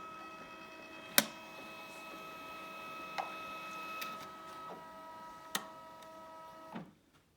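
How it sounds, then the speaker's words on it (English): An ExpressVote voting machine prints a ballot: a quiet, steady mechanical hum with several sharp clicks and ticks spaced a second or two apart, ending in a brief rustle before going silent. "so I'm going to print my ballot"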